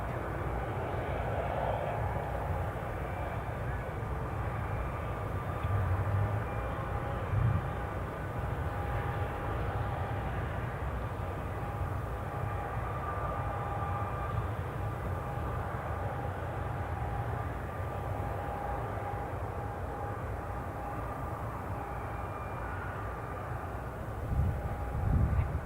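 KLM airliner approaching Newcastle International Airport, a steady distant engine roar and rumble heard from outdoors, fairly faint and continuous with no talking.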